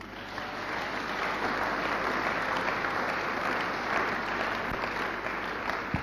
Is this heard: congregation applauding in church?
yes